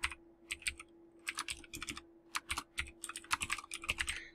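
Keys clatter on a computer keyboard as a website address is typed in, a quick run of close, crisp clicks in uneven bursts with brief pauses, alone with no talk.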